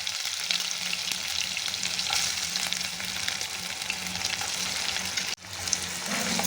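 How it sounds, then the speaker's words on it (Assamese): Capsicum and carrot fry in hot oil, giving a steady, close crackling sizzle throughout, briefly broken by a sharp knock and a short dip in sound before the frying resumes. "এইখিনি ধুনীয়াকৈ চব্জিখিনি প্ৰথমে ভাজি লওঁ"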